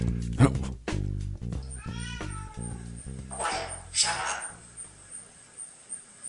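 A parrot mimics a cat's meows, several drawn-out yowling calls in quick succession, close and fairly loud with brief pauses between.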